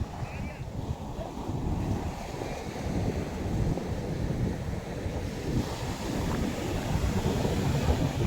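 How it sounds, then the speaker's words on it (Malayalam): A rough, churned-up sea surges toward the shore in a continuous heavy roar of breaking surf, with wind buffeting the microphone throughout and no distinct voices over the din. "കടല് കലങ്ങി മറിഞ്ഞിട്ട് വരുന്നത്."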